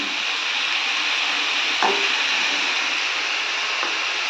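A spatula scrapes and stirs food around a large kadai while oil sizzles steadily in a Bengali home kitchen, with a couple of sharper metal clinks against the pan.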